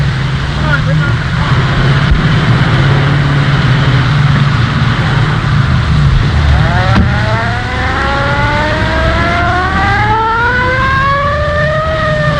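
A car engine in a 1932 film turns over and revs up, its rising whine climbing steadily in pitch over a constant low mechanical rumble, heard under people talking.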